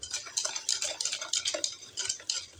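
A spoon stirs sugar into cake batter in a bowl, scraping and clinking steadily in a continuous close-up rhythm with no talking.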